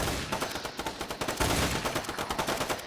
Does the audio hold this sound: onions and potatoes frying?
no